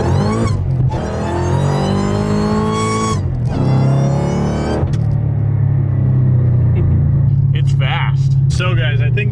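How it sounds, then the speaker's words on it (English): Mazda Miata roadster accelerating hard, engine rising through the gears with a loud whine and rumble, heard close up from inside with people talking over it. "Pulls hard. I like the whine too."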